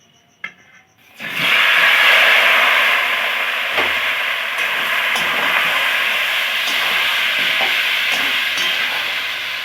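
Marinated cauliflower, potato and chicken drop into a hot pan of oil tempered with dried chilli and bay leaf, bursting into a loud, close, continuous sizzle after a few quiet clinks, with occasional stirring scrapes.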